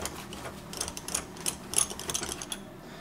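A 12 mm bolt is loosened on a Toyota Camry front driver seat, producing close, irregular mechanical clicking and ratcheting bursts that grow busier partway through.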